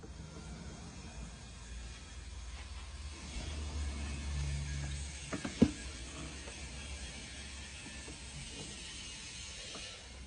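Gears rocked gently back and forth by hand to check backlash between the teeth, giving faint, soft mechanical clicks and a brief sharper knock midway over a low background hum, with no talking.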